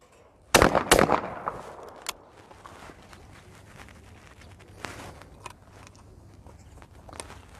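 Two loud, close gunshots from professional shotguns at a target-shooting session crack in quick succession, each leaving a short ringing echo, followed by quieter scattered clicks and faint thumps in a steady outdoor background.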